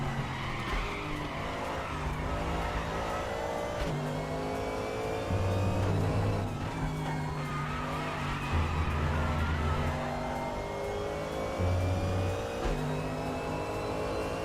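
Race cars in a RaceRoom video game race battle, with tyres squealing through corners over steady engine drone and shifting revs, loud and continuous with no voices.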